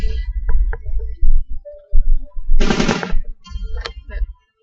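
A rapid burst of automatic gunfire in the video game Project Zomboid, loud and close, amid scattered game noises and brief clicks before falling silent.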